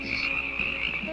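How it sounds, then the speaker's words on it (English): Crickets chirp on a quiet suburban night in a classic cartoon, a steady, continuous high trilling with no talk over it. "the quiet stillness of the night was broken only by the sound of crickets."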